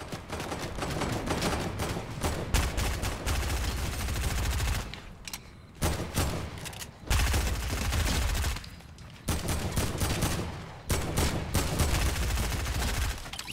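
Fortnite gunfire on a bridge comes in dense, loud bursts of rapid shots, broken by brief gaps and then resuming with sustained volleys.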